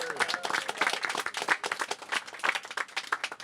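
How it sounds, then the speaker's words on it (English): A crowd at an outdoor city pool season opening event bursts into sustained applause, dense overlapping claps rising and falling steadily for a few seconds with no talk over it. "So let's give DGS a big round of applause"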